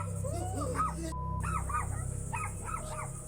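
Two puppies in a neighbour's home give short yips, barks and whimpers in a scattered series, fairly close, over a steady low background hum.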